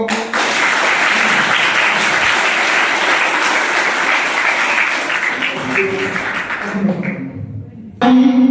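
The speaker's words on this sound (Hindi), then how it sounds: "इनकी बधाई में खूब जोर से तालियां हो" Loud, sustained applause from an audience at a college farewell ceremony, filling nearly eight seconds before fading, followed by a brief fresh burst at the end.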